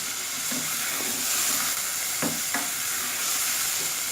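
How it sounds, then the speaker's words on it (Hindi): Minced meat, onion and cumin fry over high flame in a pan, a steady close sizzle and hiss with a few soft scraping stirs. "कीमा, प्याज, ज़ीरा, इन तीनों चीज़ों को कम से कम 5 मिनट हम फ्राई कर लेंगे।"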